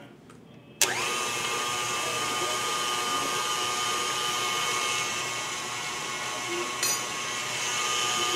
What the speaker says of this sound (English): now we're gonna mix it up again